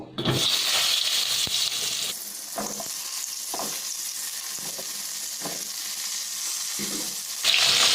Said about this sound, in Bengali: এবার আমি পটলগুলো ভেজে নেব।